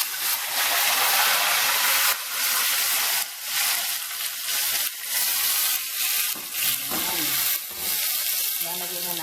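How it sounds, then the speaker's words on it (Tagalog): Morcon meat slow-frying in oil with syrup gives a loud, continuous sizzle broken by short dips and stirring scrapes, with a faint voice briefly near the end. "Atin na ilalagay yung syrup niya at i-slow fry natin"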